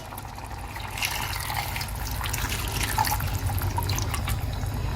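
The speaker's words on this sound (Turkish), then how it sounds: "Şimdi üzerine suyu gezdiriyorum." Water is poured over cauliflower florets in a pan, giving a steady, close splashing trickle that runs the whole time without any voices.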